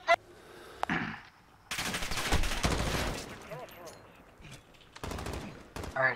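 Bursts of automatic gunfire and single shots crack through a Call of Duty Modern Warfare match, loud and close in irregular volleys separated by brief lulls, with a player talking between them.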